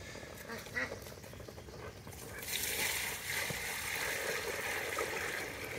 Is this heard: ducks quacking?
yes